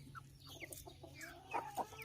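Farm chickens clucking in short bursts, several close calls standing out over a low steady hum, with no voices in between.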